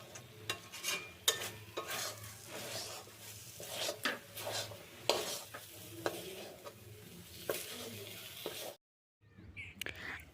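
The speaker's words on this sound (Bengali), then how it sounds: "এবার আরেকটু নাড়াচাড়া করে এটা শুকনো করে নেব।" A raw-rice sandesh mixture is stirred and scraped in a wok, giving a steady, dry rasping with scattered soft taps and a faint sizzle. The scraping continues for several seconds, then stops abruptly, followed by a short quiet gap.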